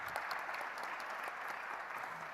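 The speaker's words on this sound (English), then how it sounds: "please join me in giving them a round of applause" Audience applause for a panel at a cybersecurity forum, an even wash of many hands clapping at a moderate level throughout, with no talking over it.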